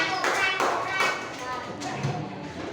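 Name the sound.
children clapping applause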